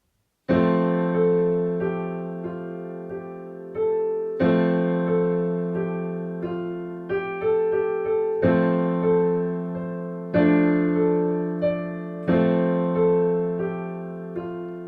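Piano playing the piece "Morning" slowly, with full, heavy chords that overpower the quieter melody line, each chord struck firmly in a steady rhythm.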